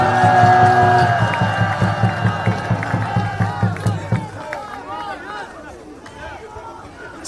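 Loud crowd applause and cheering at an outdoor political rally, a dense sustained roar with shouts on top that thins into scattered clapping and voices before a final swell.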